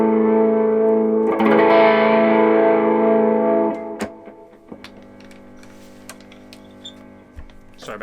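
Old Fender Strat electric guitar through a Boss GX-10 effects unit: a loud, distorted sustained chord rings and then cuts off, followed by quieter clicks and taps.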